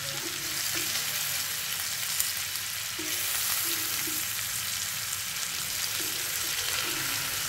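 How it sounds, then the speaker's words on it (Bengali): Beef steak fries in pure mustard oil at home, a loud, dense, continuous sizzle and crackle, close and unbroken throughout. "এবং পিওর সরিষার তেলে ভাজা এটা।"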